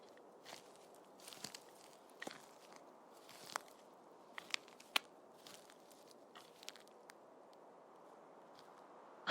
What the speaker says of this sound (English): patches of snow linger, icy and crunchy beneath your boots